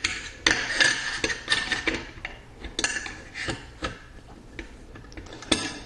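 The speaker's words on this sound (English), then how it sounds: "Now to reassemble it, we're going to put the elevator back in." Metal parts of a Mossberg 500 shotgun clicking and clacking as the elevator is squeezed and fitted back into the receiver during reassembly, a string of sharp close taps and ticks with no talking.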